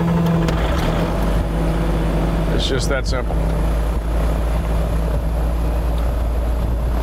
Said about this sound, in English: Engine master on. Engine start.